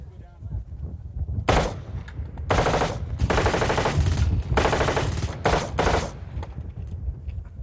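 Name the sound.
M16 rifle automatic gunfire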